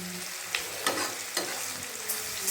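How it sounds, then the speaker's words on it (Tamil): Turkey berries (sundakkai) sautéing in a pan, giving a steady close sizzle with several sharp stirring scrapes spaced through it, and no voices. "நல்லா பொன்னிறமாக வதக்கணும்"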